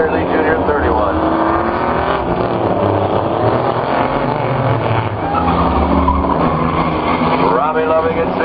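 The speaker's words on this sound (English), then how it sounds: "Robbie Loving now starting to stretch it out in the number 16 with that race lead." Race cars in a figure 8 feature race at Toledo Speedway, engines roaring steadily with tire squeal and skidding throughout, heard under continuous announcer commentary over loudspeakers.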